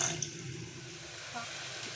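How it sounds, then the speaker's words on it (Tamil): Water pouring over biryani rice in a vessel to wash and soak it, a soft continuous splashing and trickling flow heard close up at low level. "இப்போ நம்ம இதை கழுவி ஊற வச்சுக்கலாம் தண்ணி ஊற்றி ஊற வச்சுக்கலாங்க"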